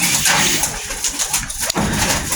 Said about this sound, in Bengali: দেখেন কবুতরগুলা মানে নতুন এক জায়গা থেকে এক জায়গায় আসার পর আসলে এরা অনেকটাই ভয়ে